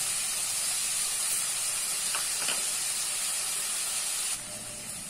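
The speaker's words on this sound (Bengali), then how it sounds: "একসাথে পেঁয়াজ এবং আলু ভেজে নেব।" Onion and potato fry together in a pan with a steady, loud, hissing sizzle throughout, easing slightly toward the end, with no talking.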